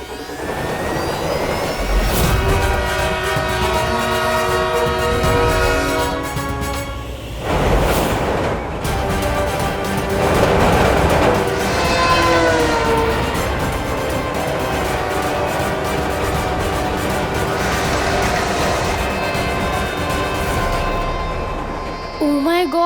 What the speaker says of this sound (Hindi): कहीं ट्रेन ने बालवीर को कुचल दिया तो?